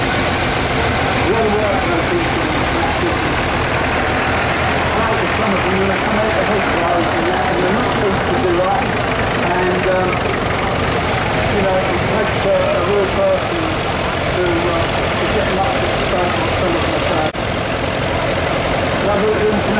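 Agricultural tractor engines rumble at idle in a show arena, a steady loud low drone with continuous crowd noise and a public address voice over it.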